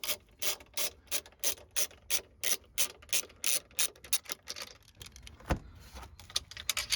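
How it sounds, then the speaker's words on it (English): A screw being unscrewed on a BMW i5 during frunk installation, a quiet rapid ratcheting clicking in regular bursts that slows and stops, followed by a single sharp tap. "So unscrew it, take away the screw"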